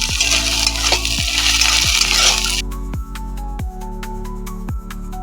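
Onion, garlic, ginger, chili and tomato hit a hot pan for a rohu fish curry, giving a loud, hissing sizzle that cuts off midway into quieter, rhythmic clinks and scrapes.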